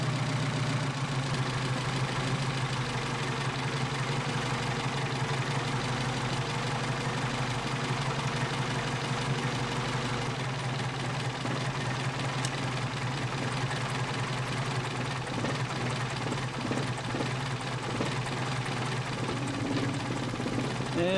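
A Mercedes 190SL engine fitted with Solex PHH44 carburetors idles at low revs, a steady close rumble with an uneven, slightly lumpy pulse running the whole time.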